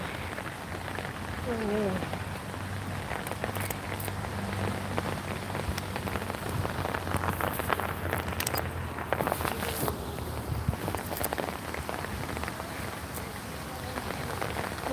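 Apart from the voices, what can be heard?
rain falling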